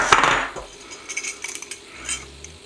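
Metal parts of a kitchen appliance being taken apart, heard as light, irregular clinks and scrapes of metal pieces close by, fairly quiet, with no talk.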